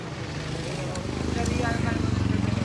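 A motorcycle engine runs loud and close, settling into a steady rhythmic pulsing as it revs, with voices talking over it.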